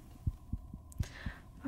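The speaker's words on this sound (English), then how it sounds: "heartbeat growing faster, louder, more erratic with every step" Heartbeat sound effect in an audio drama, fast and erratic: five or six deep, thudding beats at uneven intervals over a faint hum, with a brief brighter rustle partway through.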